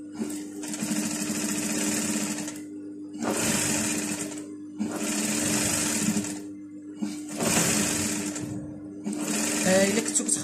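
A sewing machine runs in five bursts of a few seconds each while stitching a long princess-cut coat, its whirring needle drive stopping and restarting between runs.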